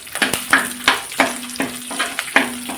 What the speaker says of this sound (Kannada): ಚೆನ್ನಾಗಿ ಫ್ರೈ ಆಗಲಿ ಇದು.